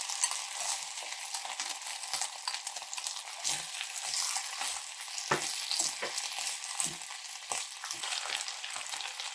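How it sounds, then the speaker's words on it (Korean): Onion and cabbage stir-fry in a pan with a steady, close crackling sizzle, punctuated by occasional soft knocks of the utensil against the pan. "양배추도 국그릇으로 한 그릇 정도 넣고서 같이 볶아주겠습니다"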